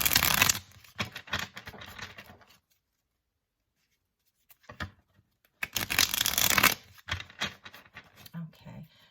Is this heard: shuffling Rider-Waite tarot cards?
yes